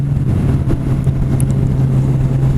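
A Kawasaki Z1000 motorcycle drones with a loud, steady engine tone that holds close and even for a couple of seconds, with no clear rise in pitch.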